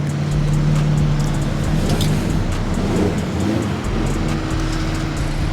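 A BMW G87 M2 fitted with titanium intakes revs close by, a loud sustained engine drone with a steady low tone that dips briefly before picking back up.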